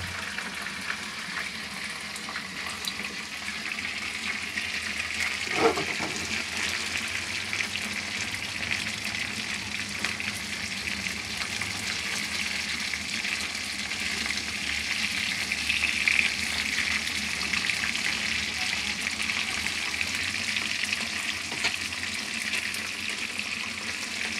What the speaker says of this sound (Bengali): মাছগুলোকে আমি ভেজে নিতেছি।